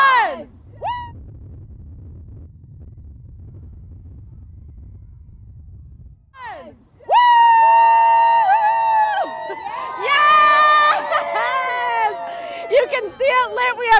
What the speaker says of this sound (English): Cheering from both sides of the street.